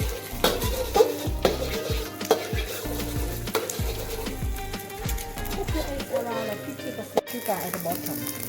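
Noodles for pad thai are stirred and scraped around a hot sizzling pan in a Chiang Mai cooking class, with steady frying hiss under repeated clacking strokes of a utensil against the metal, close and moderately loud.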